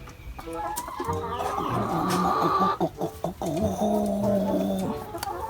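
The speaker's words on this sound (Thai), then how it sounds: "นี่ไก่สวยด้วย" Chickens at a rural house cluck and cackle continuously at close range, with overlapping calls and a rooster-like note mixed in.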